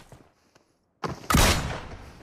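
Shotgun fire from a DBS shotgun in a battle royale video game: after faint footsteps, a loud close blast hits, followed at once by a heavier burst of gunfire that rings out and slowly decays.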